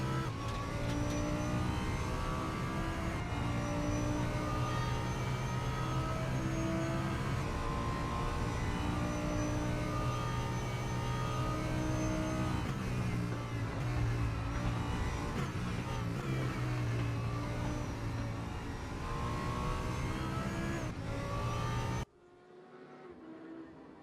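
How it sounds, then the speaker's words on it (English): An Audi GT3 race car engine in a racing video game screams steadily at high revs on a start-finish straight, a dense sustained roar with slight pitch shifts before cutting off abruptly near the end. "let's take a listen to the Audi engine as well"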